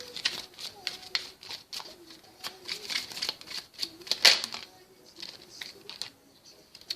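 Tarot cards being shuffled and drawn, giving a series of soft riffling flicks and taps at an irregular pace, fairly close, with a sharp snap near the middle.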